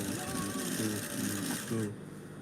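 A sewing machine stitches fabric in quick bursts with a rapid mechanical whirring rhythm, close and fairly quiet, then stops near the end, while a person talks over it.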